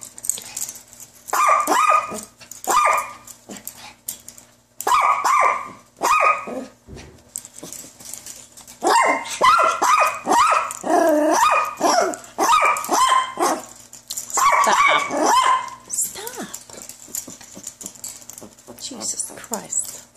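Bursts of jealous dog barking and yipping come in clusters over about twenty seconds, loud and close, mixed with someone talking and birds nearby.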